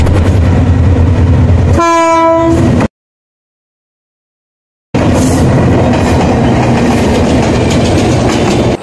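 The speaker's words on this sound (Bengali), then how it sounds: "ট্রেন চলে এসছে।" A train pulls in at a station on a motorbike road trip from Sherpur to Sreemangal, its horn sounding loudly in a brief harmonic blast among continuous rumbling wheel and engine noise, with a short silent gap before the rolling noise resumes.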